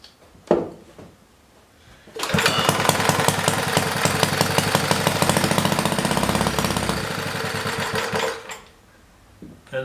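A Simpson's Supremacy model 15 garden tractor engine cranks briefly, then catches and runs steadily for several seconds, loud and close with a fast rhythmic chatter, before shutting off into quiet.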